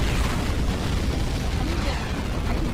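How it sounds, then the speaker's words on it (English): Spacecraft thrusters firing in the TV show The 100, a steady, dense, broadband roar with a heavy low rumble that holds constant throughout. "Firing thrusters in 1."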